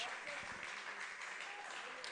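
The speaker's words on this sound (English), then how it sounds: "the round of applause you'll hear in the background is for remembrance of Dylan Tombides" A crowd at an NPL WA football match between Perth SC and Stirling Lions claps in remembrance, a steady, distant, even wash of applause that continues throughout under a commentator's voice.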